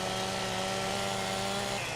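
Chainsaw cutting a tree in Farming Simulator 17, a steady, loud high-revving engine whine held at constant pitch throughout, with no talking.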